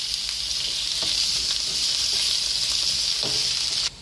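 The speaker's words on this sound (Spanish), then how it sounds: "sofreír la cebolla. Vamos a poner la cebolla." Chopped onion frying in a pan for beef tinga, a steady bright sizzle holding evenly throughout and cutting off sharply near the end, with a few soft stirring knocks.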